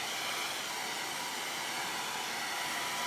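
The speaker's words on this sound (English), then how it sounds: "I can simply hit it with a low heat on a blow dryer" A blow dryer on low heat blows over craft material to dry it, giving a steady, close, continuous airy whoosh that holds even for the whole stretch with no talk.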